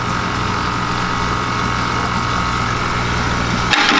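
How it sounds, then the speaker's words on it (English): An aerator bubble pump runs at a dock. It gives a loud, steady motorized drone with an even churning hum that holds without a break, then shifts slightly near the end. "I'll just turn on my bubbles."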